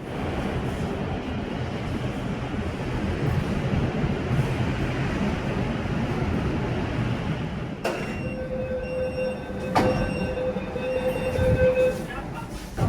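A Kolkata Metro Green Line train at Howrah station gives a loud, steady rumbling roar that continues throughout, joined near the end by sustained high tonal whines and a brief sharp clank.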